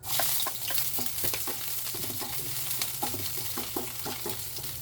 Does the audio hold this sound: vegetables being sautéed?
yes